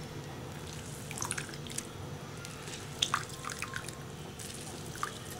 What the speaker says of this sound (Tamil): இப்போ கொதி வர்றதுக்கு வரப்போது நம்ம வந்து ஆரஞ்சு ஜூஸ் ஊற்றிடலாம்